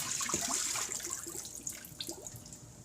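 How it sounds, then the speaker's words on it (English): Cooking water poured off pieces of salted fish in a kitchen, a soft, fairly quiet splash and trickle of liquid draining away with a few scattered drips. "Let's strain the water off here."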